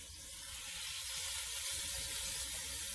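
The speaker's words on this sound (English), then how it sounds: "Oh yeah, beautiful sizzle." Seasoned pork chops sizzle loudly in a pan over very high heat, a steady broad frying hiss with faint crackle running unbroken throughout, no talking.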